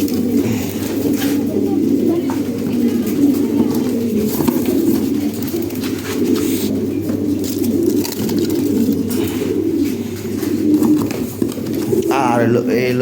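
Lahori pigeons cooing softly in a loft, low repeated coos beneath a person talking close by, with faint fluttering and scuffling.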